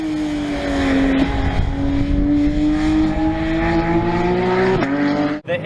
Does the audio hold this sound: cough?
no